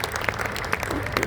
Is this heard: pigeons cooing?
no